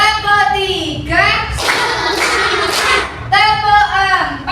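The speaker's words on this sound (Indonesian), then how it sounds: "Tepuk 1, tepuk 2, tepuk 3," Bursts of rhythmic hand clapping between stretches of chanted counting by a voice, loud and close, with the claps landing in short dense runs.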